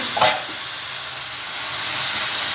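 Tomato chutney with mint cooks on a low flame under a lid, giving a steady soft hiss and steam sizzle after a brief clink near the start.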